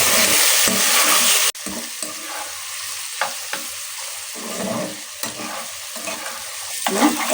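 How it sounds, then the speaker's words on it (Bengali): Meat and potatoes frying together in a pan, sizzling hiss with repeated scraping and stirring clatters, loud and close with no talk. "মাংসটা আর আলুটা একসাথে ভাজা নিতেছি।"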